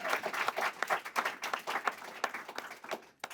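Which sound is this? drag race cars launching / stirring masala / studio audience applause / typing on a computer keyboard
studio audience applause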